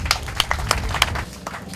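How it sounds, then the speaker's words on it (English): An audience at a North Shore surfer paddle out gathering applauds Joy Cabell, with a handful of sharp, uneven claps spaced out over a second or two, near and fairly sparse. "So I'd like to give you a big round of applause,"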